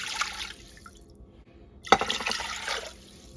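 Water poured into an old crock pot, a close, fairly loud splashing pour in two bursts with a short pause between, and no talk.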